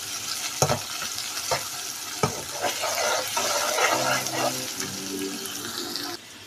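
Ginger and garlic stirred into onions frying in a pan for achari kala chana, a spoon scraping in repeated strokes over a steady close sizzle, with no talking.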